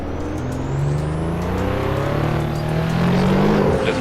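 A 1987 RUF CTR Yellowbird in the video game Assetto Corsa, its engine droning steadily and rising in pitch as it accelerates, close and loud with no talk.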